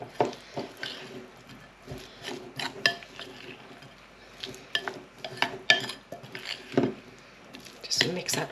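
A spoon stirs and scrapes English mustard and mayonnaise together in a bowl, making close, irregular clicks and soft squishing in short bursts with quiet gaps.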